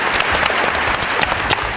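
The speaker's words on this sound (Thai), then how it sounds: "โอเคปรบมือต้อนรับน้องแนนด้วย" A group claps steadily in welcome of a young girl being introduced at a children's activity show, dense and sustained throughout without a pause.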